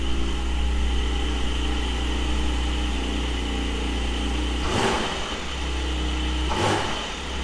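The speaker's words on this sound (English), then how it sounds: "Just wanted to leave the windows open just so you can hear what it's like on cold." A Porsche 718 Cayman GT4 4.0 engine idles cold, heard with windows open, with a steady low, even rumble, briefly dipping twice as the revs settle; no one speaks.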